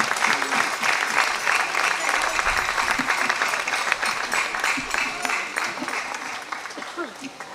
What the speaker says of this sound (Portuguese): uma salva de palmas e o meu muito obrigado